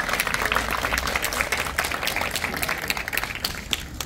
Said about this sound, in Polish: Także wielkie brawa.